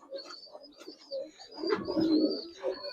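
A silver Giribaz pigeon coos close by in a few soft, throaty phrases, the last and fullest rolling coo coming near the end, over a quiet background.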